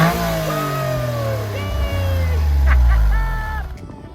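A small Japanese car's engine starts and revs, a steady loud rumble with rising and falling tones and bursts of throttle, close by, with people talking over it.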